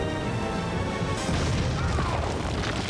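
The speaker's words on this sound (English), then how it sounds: "we were right next to an explosion that probably should have made us deaf for life" Explosion in Kingdom Come: Deliverance 2, a loud, close boom that surges in with a heavy rumbling crash and lingers as a dense roar of debris and noise.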